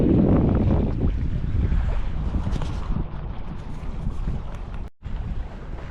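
A boat cruising on Brisbane Water, a steady engine and hull rumble mixed with heavy wind buffeting on the microphone, with a brief dropout near the end.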